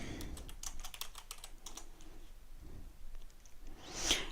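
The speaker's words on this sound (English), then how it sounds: "You're going to type in the username that you selected and type in your password." A username and password are typed on a computer keyboard in quick, light bursts of key clicks, close and fairly quiet, pausing briefly before a final cluster of taps.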